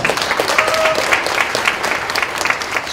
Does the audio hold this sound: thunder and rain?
no